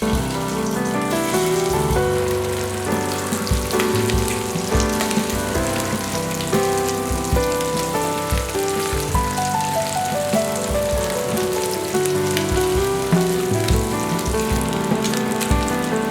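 Anchovies sizzle in hot oil for a Tamil-style fish fry, a dense continuous crackle with sharp popping spatters, close and fairly loud, with no voices.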